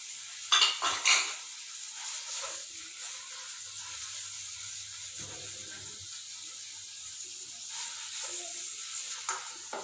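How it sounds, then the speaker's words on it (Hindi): Chicken with ginger-garlic paste sizzles steadily in a pan over low heat while a utensil scrapes and stirs, with a few louder clinks near the start. "हल्की आंच पे इसको फ्राई करेंगे।"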